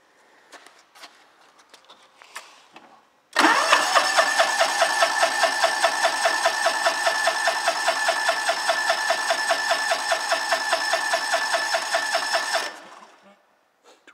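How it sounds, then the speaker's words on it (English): A John Deere LX188 lawn tractor engine starts abruptly and runs loud and steady at close range for about nine seconds with a fast, even pulsing beat, then cuts off; faint knocks and handling noises come before it. "That's a strong running engine there."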